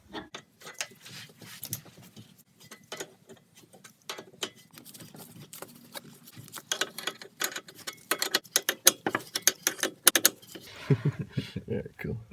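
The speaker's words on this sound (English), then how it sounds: "We're just going to wind this out until it comes all the way out of the tie rod." A wrench clicks and ratchets while winding an inner tie rod out of a VW MKIV Golf, GTI or Jetta steering rack, irregular metallic ticks growing busier and louder toward the end, with occasional talk.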